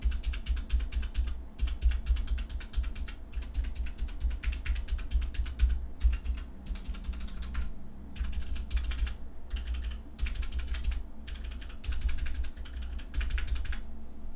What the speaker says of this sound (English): the stabilizers are quite loud on certain keys